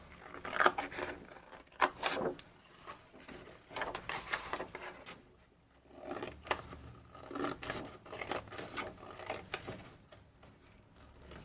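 Paper being cut for a junk journal tag, a series of soft, close snips and rustles in irregular bursts with short pauses between them and no speech.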